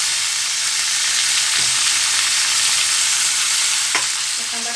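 Green chilies roast in a hot pan with a steady, even sizzle throughout, broken by a few soft scraping stirs, with no voices.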